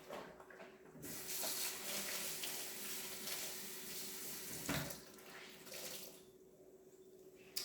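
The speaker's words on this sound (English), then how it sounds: "Let me just rinse my hands really quick." Water runs from a kitchen tap as hands are rinsed, a close, steady rushing splash that starts abruptly after a second, briefly breaks once midway, and fades near the end.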